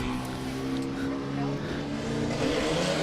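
Formula First race cars accelerate away together at the start of a one-hour endurance race, a steady, loud engine roar that holds throughout under a commentator's voice.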